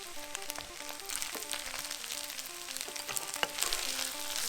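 Shrimp fried rice with sweet dark soy sauce is stir-fried in a hot pan, giving a continuous close sizzle with scraping stirs and faint melodic music underneath, without talking.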